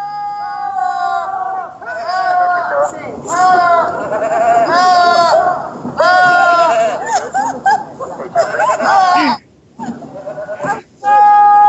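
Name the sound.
goat bleating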